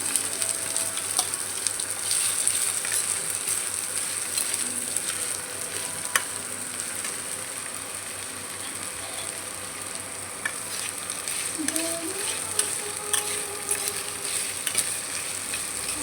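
Grated onion, ginger, garlic and green chili frying in hot oil in a pan, a steady close sizzle running throughout with occasional soft stirring scrapes and clicks, no talk.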